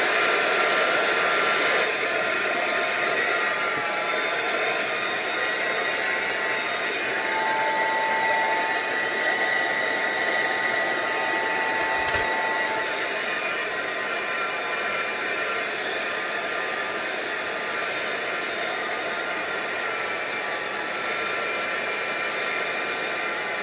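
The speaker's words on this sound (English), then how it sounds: "So let's hit the dryer with all of this." A hair dryer blows steadily at close range over an art journal page coloured with Distress Oxide inks, a loud continuous whoosh with a faint whine, running the whole time without pause.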